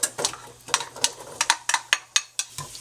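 Onions going into about a quarter cup of olive oil heated over medium-high in a large pot, giving a string of sharp clattering, stirring knocks and scrapes at a steady uneven rhythm, close and moderately loud.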